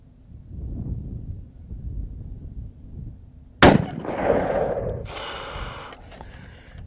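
A single sharp .308 rifle shot cracks out in open desert, loud and close, trailing off into a brief rumbling echo after a stretch of quiet breathing and faint ambient noise.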